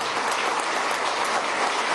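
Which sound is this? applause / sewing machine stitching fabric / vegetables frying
applause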